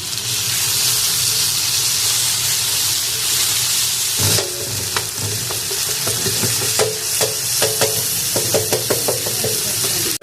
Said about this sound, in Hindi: टमाटर इसमें शामिल कर देंगे। मसाले को अच्छे से भुनाई करेंगे।